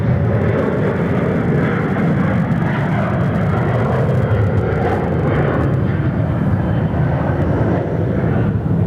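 A Qantas airliner landing at Sydney Airport on runway 34 right, heard as a loud, continuous engine roar and rumble that holds steady throughout with no break.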